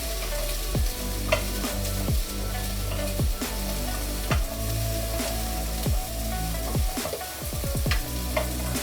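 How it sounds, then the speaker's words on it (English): String beans stir-frying in a wok over steady loud sizzling, with repeated scraping stir strokes at a regular rhythm, close and without talk. "Stir fry this until they are all become wrinkly."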